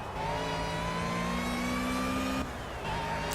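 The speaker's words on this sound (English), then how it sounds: "Because Hondas have a lovely induction noise." A Honda four-cylinder race car in Project Cars revs up with rising whining engine and induction tones, drops briefly as it shifts, then climbs again, steady and fairly loud with no talk.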